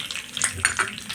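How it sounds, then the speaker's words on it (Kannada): Mustard seeds, cumin and curry leaves hit hot oil for a tempering, giving a brief close sizzle and crackle with a few sharp spatters over a soft hiss. "ಸಾಸಿವೆ ಜೀರಿಗೆ ಕರಿಬೇವು ಸೊಪ್ಪನ್ನು ಹಾಕಿದ್ದೀನಿ"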